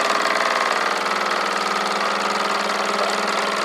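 A model steam engine chugs steadily with a rapid, even mechanical beat, loud and close, running continuously with no voices.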